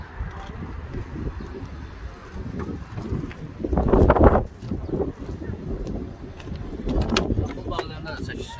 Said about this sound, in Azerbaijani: Volvo motor fansı.